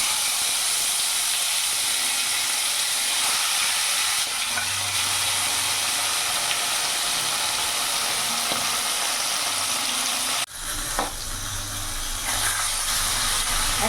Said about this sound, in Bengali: তেল গরম হয়ে গেছে, এবার এক এক করে বাটা মাছগুলো আমি ছেড়ে দেবো।